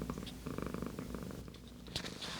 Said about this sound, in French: tu ronronnes tellement.